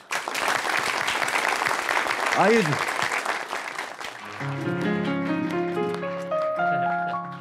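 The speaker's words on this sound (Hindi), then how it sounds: "आपकी जोरदार तालियों में अहमद सईद" Audience applause on an Eid-ul-Adha special TV show, a dense wash of clapping from a studio crowd as a guest is welcomed, with a host's voice over it before music with sustained tones takes over.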